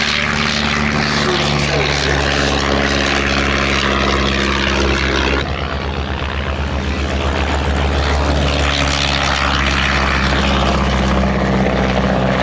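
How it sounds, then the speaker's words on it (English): Vintage Miles Magister and Miles Messenger propeller aircraft, 1940s RAF trainers, flying at the Shuttleworth airshow: a loud, steady droning propeller engine roar that holds for the whole stretch, with a slight dip in tone partway as they pass. "Bringing up the rear will be Monty's Mans, the Miles Messenger."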